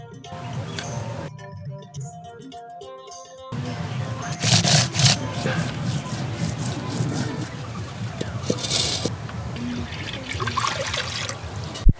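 Water runs from a tap while eggs are washed in a home kitchen, a steady trickle and splash with occasional clinks.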